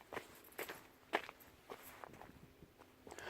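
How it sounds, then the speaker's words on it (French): Footsteps on a forest trail at night, a slow series of soft, crunching steps that are faint and close, with quiet background between them. "on entend juste des bruits de pas"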